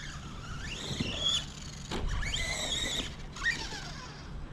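A Kyosho Outlaw Rampage Pro 3S RC car revs hard at full throttle, its electric motor whining and rising in pitch in several loud surges with brief drops between bursts.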